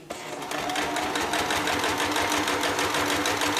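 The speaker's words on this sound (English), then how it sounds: "all I'm going to do is sew down the side of this" A sewing machine runs steadily and close, its rapid needle chatter forming a continuous mechanical whir throughout.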